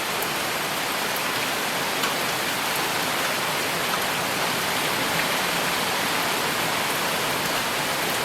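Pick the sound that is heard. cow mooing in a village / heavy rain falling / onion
heavy rain falling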